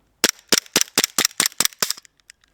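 A Glock pistol fires about eight rapid, sharp shots in quick succession, close and loud, followed by a few faint clicks or rattles as the gun runs empty.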